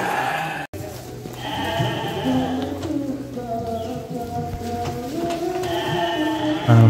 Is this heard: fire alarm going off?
no